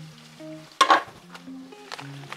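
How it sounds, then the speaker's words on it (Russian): Sweet bell peppers and other vegetables for ratatouille sizzle in a pan as garlic goes in, a brief loud burst of frying followed by quieter crackle under a soft musical background. "Мы добавляем чеснок"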